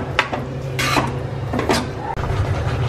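A spoon scraping and clanking against a metal pan while coconut is stirred into a sweet jaggery filling, a few quick metallic scrapes and knocks close by, with no talking.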